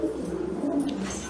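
Pigeons coo softly and continuously in a short burst, a low murmuring call somewhat under background noise.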